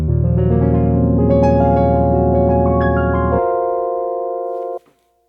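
Layered keyboard tones, piano blended with a shimmering electric piano, play sustained chords with a gentle wobble before cutting off abruptly.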